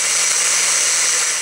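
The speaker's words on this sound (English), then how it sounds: "I'm going to put them in my blender" Blender grinding dried apple peelings into a fine powder, a loud, steady high-pitched motor whine with a faint hum beneath it, continuous and close for the whole stretch.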